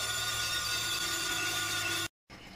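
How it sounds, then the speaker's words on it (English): Bandsaw cutting through 2-inch cold rolled steel bar in a home workshop, a steady loud grinding whine with sustained tones that runs continuously, then cuts off abruptly near the end before quieter room noise returns. "I'm working it through the bandsaw today"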